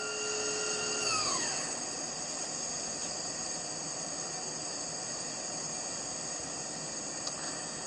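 A Mazak Nexus 410 vertical machining center spindle spins at 7,000 RPM, a steady high-pitched whine that glides down early on, then settles into a constant hum and hiss, with no talk.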